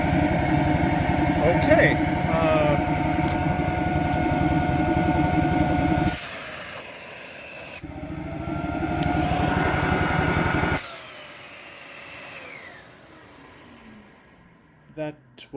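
Dyson DC39 canister vacuum cleaner running during a suction test: a loud steady motor roar with hiss that drops in pitch when the airflow is blocked, surges again, then cuts off and winds down, with a brief spoken word.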